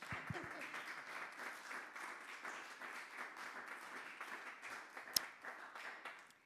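Brief applause and clapping from the audience at a general assembly of an Austrian farmers' federation, a steady patter of many hands lasting several seconds with one sharp louder clap near the end.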